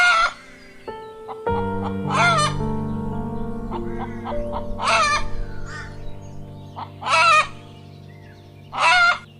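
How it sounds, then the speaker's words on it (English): A hen clucks and a rooster crows close by, several loud cock-a-doodle-doo calls spaced out over a low steady drone, with short clucks and squawks in between. "Hen."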